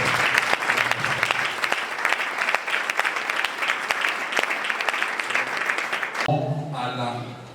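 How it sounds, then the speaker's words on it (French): An audience breaks into sustained, lively applause of many hands clapping at a public event, loud and even for about six seconds before it cuts off and a voice begins speaking. "je souhaite que les applaudissements frénétiques"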